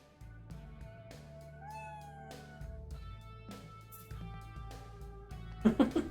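Robot cat 808 in the Hi-Fi Rush video game makes short synthetic meow-like chirps and warbling digital tones over a low electronic music bed, with a louder burst of noise at the end.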